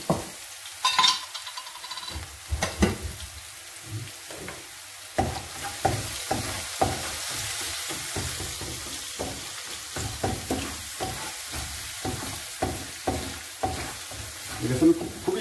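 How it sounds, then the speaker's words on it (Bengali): Sliced onions fry in hot oil in a pan for an Italian salmon pasta, sizzling steadily while a utensil stirs and scrapes in repeated clattering strokes throughout. "আমাদের পেঁয়াজ ভাজা হয়ে গেছে"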